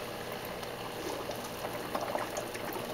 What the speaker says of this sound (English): I have cleaned it since then, so it's back to bubbling for the most part.